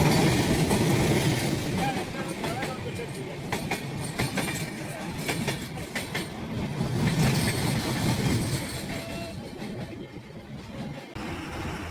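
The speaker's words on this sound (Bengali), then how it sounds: "আর এর পাশে দেখুন ট্রেন যাচ্ছে, মালুঘাট এক্সপ্রেস এটা যাচ্ছে।" The Malda Ghat Express crosses the Farakka Barrage rail-road bridge with a loud, steady rumble and rhythmic wheel clatter, plus a brief squeal of wheels near the end.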